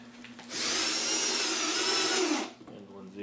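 A power drill drives a screw into soft spruce in one sustained whine of about two seconds, rising close and loud and then winding down as the screw seats.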